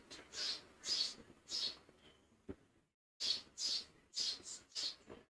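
Birds call at an NCAA college baseball game between LSU and Texas A&M, giving a steady series of short, bright chirps, three, a brief gap, then five more in quick rhythm, fairly clear over faint crowd ambience.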